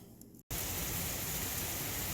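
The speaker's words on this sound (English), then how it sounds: "it decided to downpour." Heavy rain downpour roars in suddenly after a brief moment of silence, a loud, dense and steady hiss that persists without letup.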